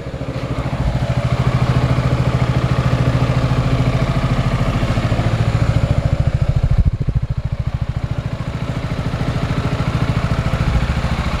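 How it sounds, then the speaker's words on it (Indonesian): A Yamaha XMAX 250 motor scooter engine in normal condition idles steadily up close, a fast even putter with a slight rattle, running continuously without talk. "jadi ini adalah suara mesin yang normal teman-teman"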